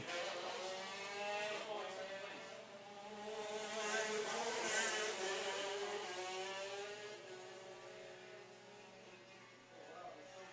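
Shifter karts racing on a track during a winter race final, with engines whining and rising and falling in pitch as they pass at a distance, under a commentator's voice.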